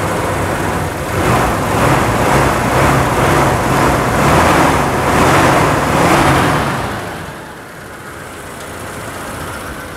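A freshly started Mitsubishi Kuda petrol engine is blipped repeatedly, loud close revs swelling and falling in a rhythmic pattern for several seconds before settling back to a steadier idle.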